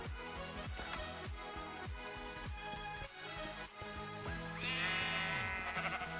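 Minecraft sheep bleating in a run of rapid, overlapping wavering calls, close and fairly loud against game sounds, with a higher steady tone rising near the end; no talking.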